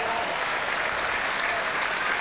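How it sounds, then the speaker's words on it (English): Steady, moderately distant applause from spectators around the ground at a 1995 bowls final, a continuous wash of clapping with no voices standing out. "the applause wells up round this ground"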